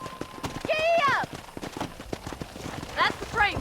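Horse in the video game Red Dead Redemption, hooves clip-clopping in a quick galloping rhythm with whinnies, close and loud under spoken dialogue.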